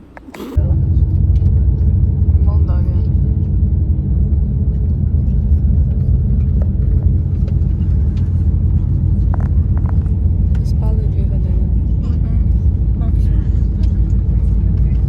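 A bus engine rumbles through a long road journey, a loud, steady low drone that starts abruptly and holds without a break, with faint cabin noises and occasional soft voices over it.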